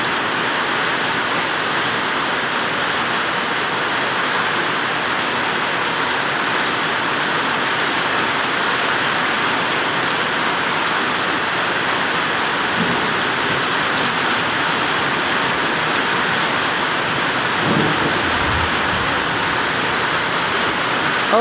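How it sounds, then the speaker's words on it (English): Rain falls steadily onto flowers outdoors in an even, close hiss of drops, continuous and unbroken, with faint low rumbles now and then and no voices. "Rain on the flowers."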